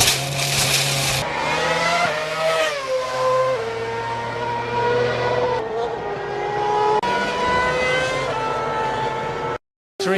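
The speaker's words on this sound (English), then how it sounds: "Webber's gone round. He's lost it" Formula 1 race cars circle a track during a crash-marred race, engines holding a continuous high-pitched whine that shifts pitch as they brake and accelerate, loud and steady throughout before a brief cut near the end.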